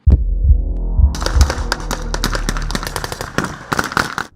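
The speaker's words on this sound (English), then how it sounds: "gunfire signals the start of a joint military operation." Rapid bursts of military gunfire crack over a low throbbing rumble during British Army training in the Kenyan desert, shots coming in quick irregular volleys that continue throughout.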